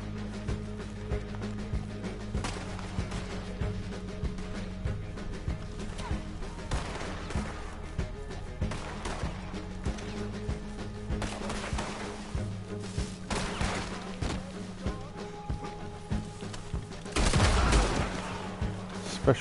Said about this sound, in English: I just love the sound of the fucking shotgun